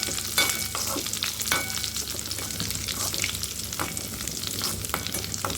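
Raisins sautéing in a pan for semiya payasam, with a loud, steady sizzle of frying and repeated scraping stirs. No one speaks.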